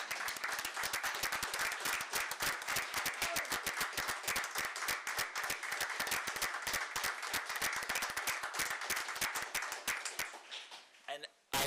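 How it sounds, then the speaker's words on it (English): Applause from a civic gathering for a donor of $300,000 toward a multiplex, individual claps clearly distinguishable in a brisk, fairly close patter that continues evenly, then fades out near the end. "please join me in a warm round of applause"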